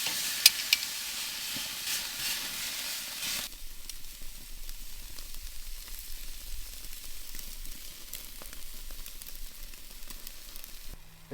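Steaks searing on a hot grill grate, a loud bright hiss at first that drops to a quieter, steady crackling sizzle, heard close with faint ticks throughout.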